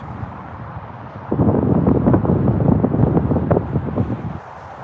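Winter wind blows at an outdoor plane-spotting spot at Toronto Pearson, a rough, low buffeting roar against the microphone that surges up suddenly and gusts unevenly before easing slightly.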